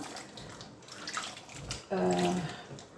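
Pumpkin pulp is swished and washed in a bowl of water, with soft splashing that grows louder and fuller partway through. A voice may be faintly present.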